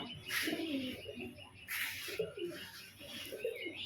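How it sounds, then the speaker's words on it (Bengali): A biscuit-coloured male pigeon coos in repeated low throaty phrases, close by and fairly soft, with faint background noise between the calls. "খুব সুন্দর একটা বিস্কুট নর পায়রা"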